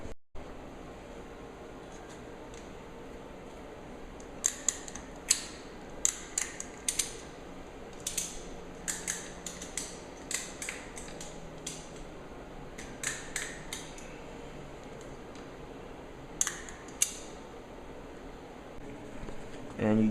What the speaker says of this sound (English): all you have to do is just continue ratcheting and this thing should compress the spring